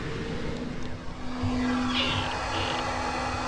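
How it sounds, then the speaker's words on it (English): A fish house furnace blower pushes hot air out of a small front vent, a steady close whooshing drone with a low electrical hum running underneath, unbroken for the whole stretch. "turn on our blower"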